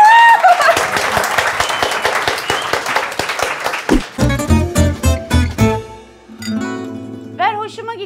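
Audience applause on a Turkish late-night talk show, a few seconds of clapping mixed with voices and an exclamation, then band music with punchy rhythmic hits takes over.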